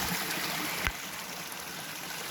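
Ice-cold stream water flows steadily on a winter nature walk in Macon County, Tennessee, a continuous close rushing wash with one brief splash or knock partway through.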